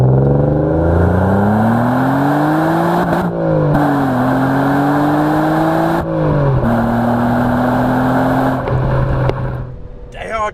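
Alfa Romeo Busso V6 pulling hard through the gears, engine note rising steadily in pitch, dropping at each shift around three and six seconds, then climbing again, loud and close from inside the car before easing off at the end.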